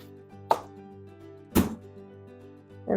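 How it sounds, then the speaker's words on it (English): A knife slices through a green pepper on a cutting board in two distinct, fairly loud chops about a second apart, with a third just starting, over soft background music. "And then we'll just slice it up."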